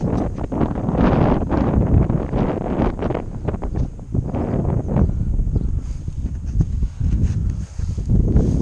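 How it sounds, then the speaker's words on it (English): Strong gusting wind on a blustery day buffets the microphone in heavy, uneven rumbling bursts that rise and fall, loud and close throughout with no talking. "bit windy, well, blustery."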